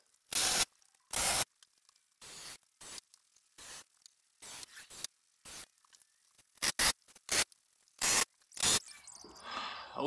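A screw goes into a budget DIY workbench in a quick series of short, hissing bursts separated by silent gaps, close and fairly loud, with no talking.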